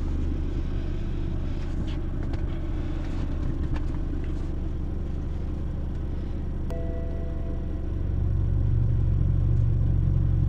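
A 2016 BMW 320i Sport with a Stage 2 tuned 2.0 engine idles steadily with a low rumble heard from inside the cabin, a brief click partway through, then the engine note swells louder near the end.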